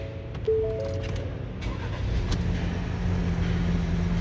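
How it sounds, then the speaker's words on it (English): A Ford Escape engine turns over and catches with a brief surge, then settles into a low, steady idle rumble. "Let's go ahead and start the vehicle."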